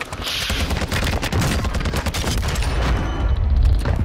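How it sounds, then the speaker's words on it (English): Rapid gunfire from a TAQ-V rifle in a shooter game, dense bursts of sharp repeated shots with booming low impacts, loud and close, continuing almost unbroken for about four seconds. "I shot him twice."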